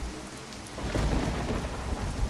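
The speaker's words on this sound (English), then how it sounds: "The lightning struck and I counted, waiting for thunder." Thunder rumbles through a storm, a deep rolling swell building after a second over steady heavy rain falling on surfaces.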